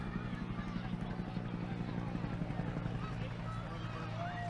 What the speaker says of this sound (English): Police helicopter above us right now, as you can hear it.